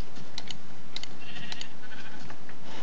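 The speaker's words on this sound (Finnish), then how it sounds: "Hei lammas." Sheep bleating in the blocky survival game Minecraft, a few short, faint bleats spread across a quiet stretch with light clicking in the background.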